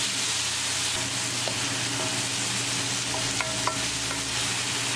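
A spoon stirs chicken breast curry with softened tomatoes in a pan, steady frying sizzle under scattered scraping knocks and clinks, close and fairly loud, with no voices.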